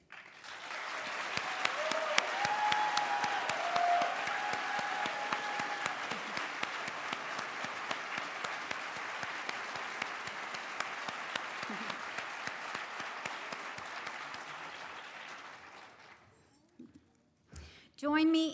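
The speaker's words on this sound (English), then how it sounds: "Join me in a round of applause for all of our 2022 retirees." An audience at a 2022 retiree celebration claps in a sustained round of applause, dense and even, fading out near the end as a voice briefly begins.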